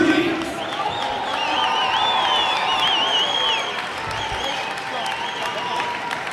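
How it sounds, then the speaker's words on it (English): A crowd at a Toundra Montréal match claps and cheers in a steady wash of applause, with scattered whoops and whistles rising above it, heard indoors at moderate loudness. "On les encourage, on les applaudit."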